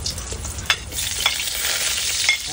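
Garlic sizzles in a hot pan for chopsuey, with a steady close frying hiss and a few scraping stirs of a utensil.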